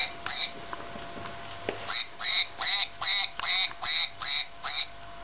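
A squeaky toy duck quacks eight times in a steady rhythm, close and loud, after a few seconds of quiet room noise.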